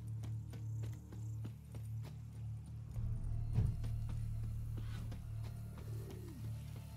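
Horse hooves clip-clop in the Witcher 3: Wild Hunt video game, Blood and Wine expansion, a quiet steady rhythm of hoofbeats under a low ambient hum, with a brief louder rustle partway through.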